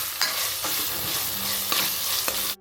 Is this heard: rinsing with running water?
no